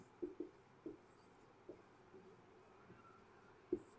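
Chalk or marker writing on a board during a physics lesson, a handful of faint, scattered taps and short scratchy strokes with quiet gaps between them, sounding close but soft.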